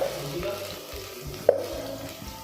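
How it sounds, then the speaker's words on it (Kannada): Chopped onion frying in hot oil in a pan while cooking huruli kalu bassaru, a soft, steady sizzle with faint stirring scrapes and one brief clink. "ಇದರಲ್ಲಿ ಒಂದು ಆನಿಯನ್ನು ಕಟ್ ಮಾಡ್ಕೊಂಡು ಹಾಕ್ಕೊಳ್ತಾ ಇದ್ದೀನಿ"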